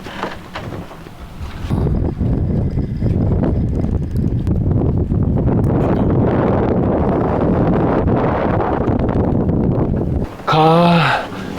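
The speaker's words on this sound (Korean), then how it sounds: "바람이 너무 많이 부는 것 같아." Strong wind roars steadily across the microphone while sailing a yacht at sea off Jeju, a loud, continuous buffeting rush that drops away briefly near the end as a voice speaks.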